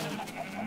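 A single short bleat from a Minecraft sheep kept in a pit underground, heard alone, close and fairly quiet.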